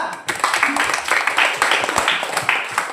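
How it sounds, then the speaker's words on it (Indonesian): A group of students claps together in a classroom, a dense, loud burst of applause lasting several seconds, with a voice faintly beneath it. "Kita tepuk tangan untuk apresiasi kelompok kita semuanya."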